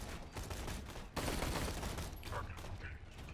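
In Borderlands 2, a Patched Invader weapon fires in rapid bursts of game gunfire with mechanical clatter, packed tightly together at a moderate level.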